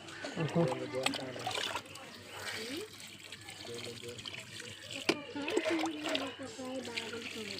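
Water is poured from a container into freshly dug basins around flowering garden plants at home, trickling and splashing in bursts while people talk close by.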